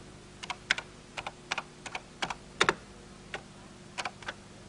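Keystrokes on a 1983 home computer keyboard, entering a repeat command in a turtle-graphics programming language, come as about fifteen crisp, close clicks in uneven bursts with short pauses between groups, alone with no voices.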